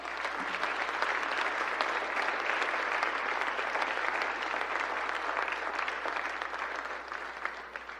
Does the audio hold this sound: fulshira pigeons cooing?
no